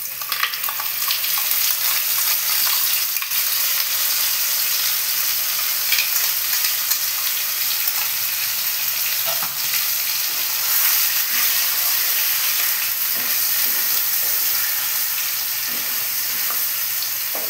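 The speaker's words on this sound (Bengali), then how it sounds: "এবার আদা রসুন আর পেঁয়াজের পেস্ট করেছি সেটা দিয়ে দিলাম।" A ginger, garlic and onion paste sizzles and spits in hot oil with whole spices, a bright continuous frying hiss with occasional crackles and stirring scrapes, close and steady throughout.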